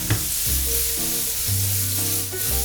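Chili pepper and mushrooms sear in a hot pan with a loud, continuous sizzle, close up, under a faint low hum.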